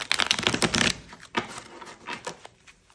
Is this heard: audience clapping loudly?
no